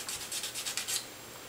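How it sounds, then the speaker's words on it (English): A metal file rasping on a small HO scale model boxcar part, about seven quick even back-and-forth strokes close up, then stopping into quiet. "this has been the best file"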